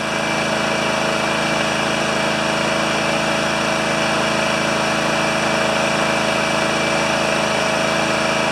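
A John Deere LX178 lawn tractor engine on a Mikuni carburetor runs at a loud, constant small-engine drone with a steady buzzing hum and no change in pace throughout; no speech.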